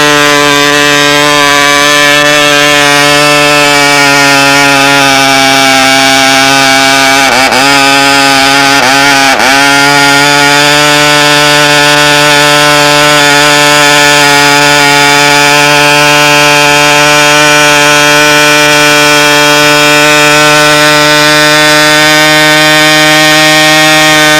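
A Jett 50 model aircraft engine runs with no muffler fitted, a very loud, steady, piercing high-pitched buzzing whine held close up throughout, with two brief pitch dips partway through.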